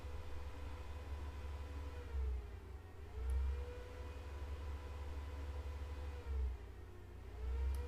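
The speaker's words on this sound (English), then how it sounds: "They're hopping in cars and trucks" Cars and trucks moving along a road: a steady low engine rumble with a wavering whine above it, swelling a few times as vehicles pass, with no speech.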